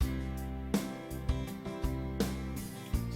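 Ketron arranger keyboard running its 16 Ballad 2 style: a full accompaniment with steady bass, sustained chords and drum hits recurring about every three-quarters of a second, played alone without talk.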